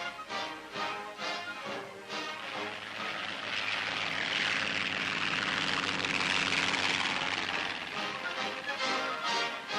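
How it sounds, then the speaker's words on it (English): A propeller-driven towing plane drones overhead as it picks up a glider in flight during 1942 wartime operations. The engine noise is steady and loud, swelling toward the middle and fading slightly, with no other sounds. "Here's how it's picked up without the towing plane having to land."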